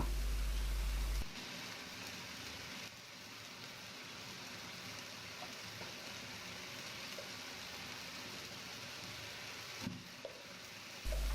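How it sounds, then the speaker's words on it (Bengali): Spices frying and being stirred in a pan for a rohu fish head curry, a faint steady sizzle continuing evenly with occasional soft stirring scrapes, heard close and quiet with no speech. "এখন নাড়াচাড়া করে মশলাগুলো পাঁচ ছয় মিনিট কষিয়ে নেব"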